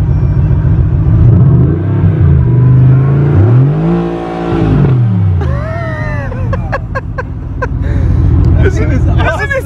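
A Mercedes AMG GTR engine in Sport Plus mode, heard loud and close as it revs up and falls back in repeated sweeps, then crackles and pops on the overrun, with voices talking over it.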